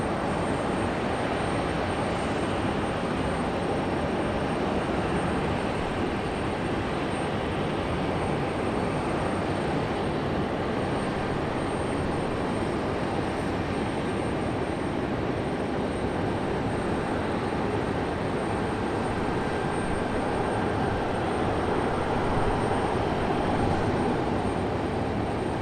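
An Airbus A319 airliner at Raleigh Durham airport gives a steady, broadband engine roar that holds at an even moderate level throughout, with no voices over it.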